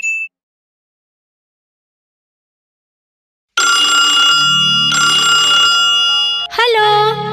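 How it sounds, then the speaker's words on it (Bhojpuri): A telephone bell rings loudly in two long bursts after a silent stretch, followed by a brief different ringing tone. "दिलावर भैया कहते तोर फोन आहे, बात कर लेगा"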